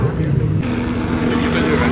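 Low-flying police helicopter over a street, a steady loud rotor and engine drone filling the whole stretch, close overhead with no break.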